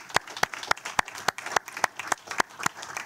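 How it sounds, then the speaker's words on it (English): A small group claps at an MTA Bridges and Tunnels committee meeting, with sharp, evenly spaced claps in a steady rhythm, close and fairly loud, with no talk over it. "let's have a quick round of applause for their joint efforts"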